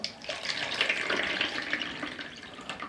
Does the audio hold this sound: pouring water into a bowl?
yes